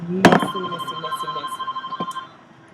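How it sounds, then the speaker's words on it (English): A short electronic telephone ring trills steadily for about two seconds after a sharp knock, fairly close and moderately loud. "And then the phone's ringing."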